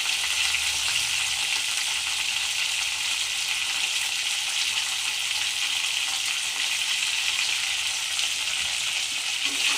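Chopped eggplant with turmeric powder frying in oil in a pan for ennai kathirikkai kuzhambu; a loud, continuous bright sizzle holds steady throughout, with occasional soft stirring and no talking.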